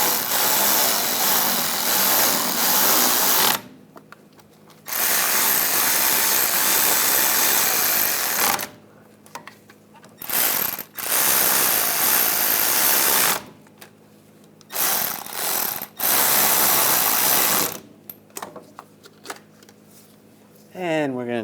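Power tool bursts tightening wheel bolts on the rear hub of a 2009-2017 Volkswagen Tiguan, several loud whirring runs of a few seconds each separated by short pauses, close up.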